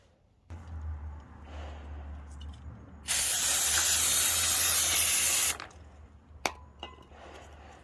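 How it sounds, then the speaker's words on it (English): Brake cleaner sprays onto front brake components in a loud, steady hiss lasting a couple of seconds, set against a low background hum with a few faint clinks before and after. "I'll clean these up with the brake cleaner."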